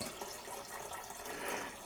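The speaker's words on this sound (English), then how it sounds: "add in a little bit of our remaining water to reach that mark" Water poured from a container into a one-gallon fermenter of pineapple mead, a soft, steady splashing trickle heard close up and quiet, with no talking.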